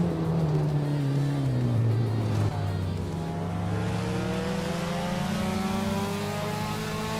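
A 1989 Mazda RX-7 race car launching off the start line, its rotary engine revving hard and climbing through gears, loud and close with a rising, buzzing whine that shifts pitch partway through.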